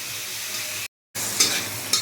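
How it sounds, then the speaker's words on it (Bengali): A steady sizzle of onions frying with panch phoron and green chillies in a pan, broken by a brief silent gap, with a couple of sharp scraping stirs near the end. "পেঁয়াজটা একটু ভেজে নিই।"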